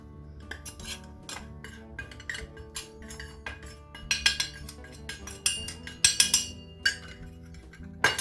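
A whisk or spoon beats flour batter in a bowl to smooth out lumps, making quick, irregular clinks and scrapes against the bowl that grow louder and busier toward the end, with no talking.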